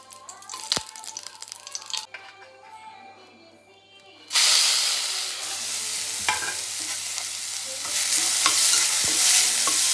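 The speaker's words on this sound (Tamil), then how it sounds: "இந்த எண்ணெயிலே கிளறி எடுக்கணும்." A tempering for coconut chutney being stirred in hot oil: a few quiet clinks come first, then a loud, steady sizzling hiss bursts in midway and continues close up, with no talking.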